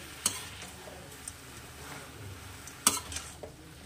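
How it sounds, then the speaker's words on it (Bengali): Mung dal frying together with vegetables in a Bengali-style dish makes a soft, even sizzle, broken by a few sharp spatula clicks and scrapes against the pan, with no voices. "আমি এর সঙ্গেই ভাজতে থাকবো।"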